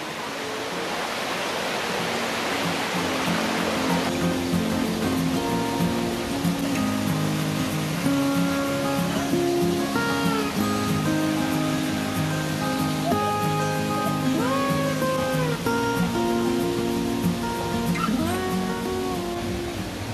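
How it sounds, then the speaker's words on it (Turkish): Small streams of water run near the Gizlikent waterfall in Fethiye, giving a steady, loud, continuous rush throughout, with faint tonal sounds drifting over the flow. "küçük su akıntılarının olduğu yerlere geliyoruz ve büyük şelaleye ulaşacağız"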